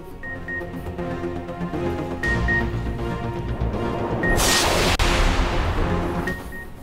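Fireworks crackle and boom at an outdoor election victory celebration for PML-N supporters in Haripur, Pakistan, with repeated bursts and a sharp loud pop near the middle over a busy crowd background.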